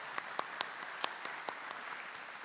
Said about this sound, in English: Just another round of applause